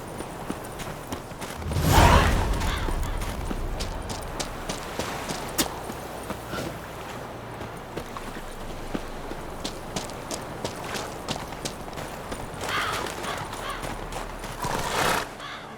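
Horse in The Witcher 3: a loud whinnying burst up front, then steady hoof clops and shuffling footsteps close by, with a second whinny-like rise near the end.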